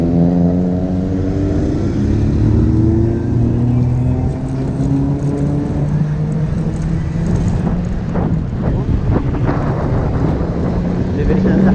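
Fast road traffic rushes past a food truck parked by a roadside in Riqqa, Kuwait, a steady loud roar of engines and tire noise with rising and falling pass-bys throughout, no speech.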